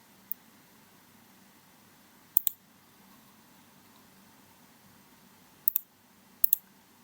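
Computer mouse clicks at a desk during a Microsoft Word 2019 tutorial, sounding as a single click followed by three close double-clicks, crisp and near over a low steady room hiss.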